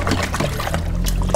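Water poured into a daphnia culture, a continuous close trickling and splashing that runs steadily, with a brief louder splash near the end.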